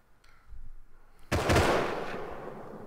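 A sudden burst of loud gunfire in the video game Rust erupts after a quiet moment, followed by sustained rapid shots and rumbling that continue to the end.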